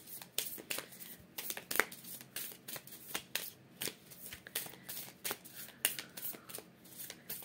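Tarot cards are shuffled by hand up close in a steady series of soft, papery riffles and slaps with short pauses between them, fairly quiet and with no voice present.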